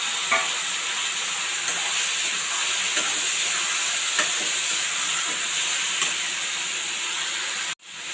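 Four tomatoes fry in a pan with a steady, even hiss of sizzling oil and faint periodic stirring scrapes, ending in a sudden sharp knock.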